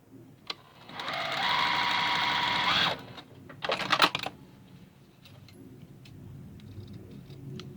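Sewing machine stitching a seam on a flannel-style infant burp cloth, a steady motor whir lasting about two seconds, followed by a brief burst of clicking and handling noise, then quiet room tone.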